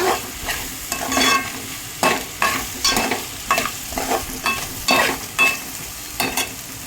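Taro root curry sizzles and fries in a pan while a spoon stirs it in repeated scraping strokes about every half second, close and fairly loud, with no talk.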